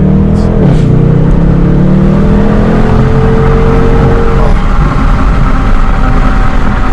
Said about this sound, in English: I opened the window that you can hear the exhaust.